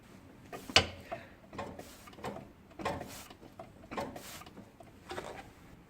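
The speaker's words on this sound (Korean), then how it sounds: "펌프 레버를 4회에서 6회 정도 작동을 하여 연료를 분사를 합니다" Lever of a diesel injection nozzle tester pump worked by hand, giving a series of sharp mechanical clicks and spurts, about five strokes in an irregular rhythm, close and quiet with no talking.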